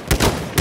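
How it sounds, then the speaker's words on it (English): Enemy machine gun fire in the game Battlefield 1: two sharp, loud bursts of rapid shots close by, separated by a brief rumbling gap. "There, enemy machine gun."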